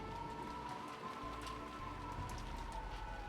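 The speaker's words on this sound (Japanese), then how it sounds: "すごい風と雨だ。" Heavy rain with wind in an animated story scene, a dense steady hiss of falling water throughout, close and continuous with no voices.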